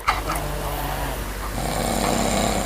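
A child snoring during sleep, close by, with steady low rasping breaths that continue alone without talk over a continuous background hum.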